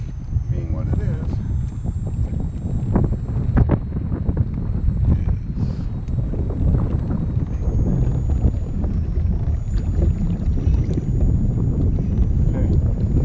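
Wind buffets the microphone steadily on a lake while fishing from a boat, a rough continuous rumble with faint water lapping and a voice speaking briefly.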